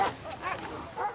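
Sled dogs from a dog team fighting and barking, with a short burst of yips and barks over about a second, faint and somewhat distant.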